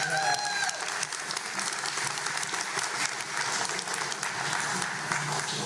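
An audience at a televised candidate debate in South Arkansas applauds the candidates with dense, sustained clapping that holds steady for several seconds. A brief tonal sound is heard at the very start.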